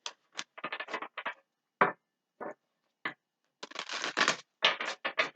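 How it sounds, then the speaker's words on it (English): Piles of tarot cards are shuffled in short separate bursts, crisp riffling and slapping sounds close to the microphone with brief silent gaps between them. "So we're going to go ahead and give each pile a couple shuffles."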